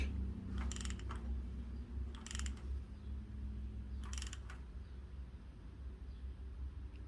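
A ratchet wrench snugs the cylinder head bolts on a Toyota 3.4L engine during reassembly, giving three short bursts of clicking over a steady low hum, with no talking.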